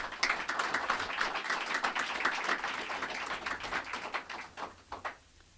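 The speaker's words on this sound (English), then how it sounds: "Can we give them a round of applause?" An audience at a government budget presentation applauds the leadership team, steady scattered clapping at moderate distance that holds for several seconds before tapering off to a few last claps.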